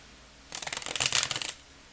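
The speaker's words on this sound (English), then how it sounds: "I don't have any problem with the shuffling of the cards." Crow Tarot cards are shuffled by hand in a quick riffling burst of papery flicks lasting about a second, close and alone in a quiet room.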